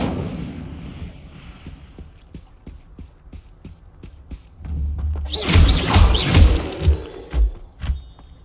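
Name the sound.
Incendio fire spell being cast in a video game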